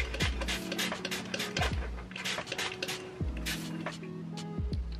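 A spray bottle mists a houseplant infested with mealybugs, with a quick series of short, close hissing squirts amid faint handling clatter.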